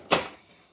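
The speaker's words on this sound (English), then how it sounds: "You hear I'm rifling through all the drawers right now." A tool drawer in a workshop is rummaged, giving one sharp metallic clatter that fades quickly, then a fainter knock a moment later.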